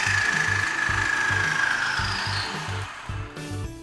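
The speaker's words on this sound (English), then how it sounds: "cut off the excess bolt using a reciprocating saw" A reciprocating saw cuts off an excess bolt while mounting an elevator ceiling. Its steady, fast low pulsing runs under a high metallic whine, loud and close, easing off near the end.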